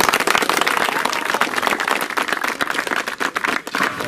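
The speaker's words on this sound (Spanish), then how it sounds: "se merece un aplauso el congresista" Applause for a congressman at a representation-week gathering in Cayrán, a dense patter of many hands clapping steadily and close, loud throughout with a slight dip near the end.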